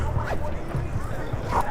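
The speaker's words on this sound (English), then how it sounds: "Yeah, those German Shepherd dogs are fierce." A German Shepherd puppy on a Midtown Manhattan street on a Sunday night gives a few short barks and whimpers over steady city noise, with people talking nearby.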